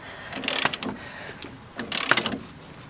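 A ratchet clicks rapidly in two short bursts while breaking a ball joint loose, close and crisp, with a brief pause between them.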